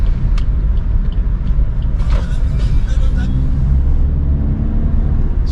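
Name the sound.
Maruti Suzuki XL6 car being driven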